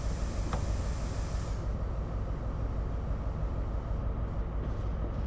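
An HST locomotive driven in the Train Sim World 6 game on the Great Western line: a steady low engine drone and rolling rumble from the cab, constant and fairly quiet, with no talking.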